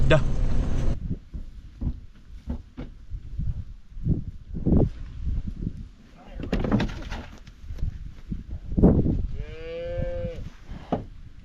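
Cattle and calves moo on a farm, with several long low calls rising through the stretch and a louder drawn-out moo near the end, mixed with someone talking and some knocking.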